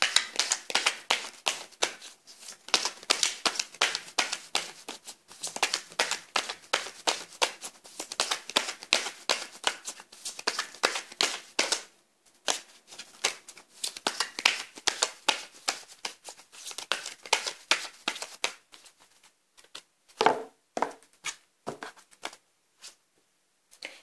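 Tarot cards shuffled by hand in a steady run of crisp, riffling flutters and soft taps, close and fairly loud, with a brief pause midway and a few sharper card slaps near the end, no talking.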